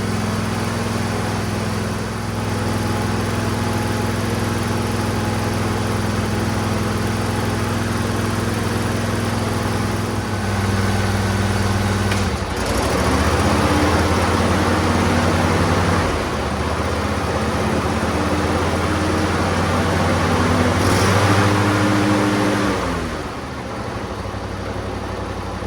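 John Deere LA145 lawn tractor engine idling after a carburetor start, a steady, close mechanical drone with a few brief dips and surges in revs over about twenty-five seconds, with no talking.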